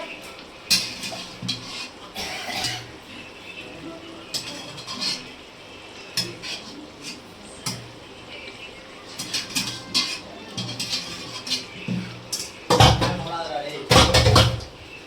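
Meat being cooked and stirred in a pot, with scattered scraping and clanking of a utensil against metal, a couple of louder knocks near the end, under ongoing background noise and voices.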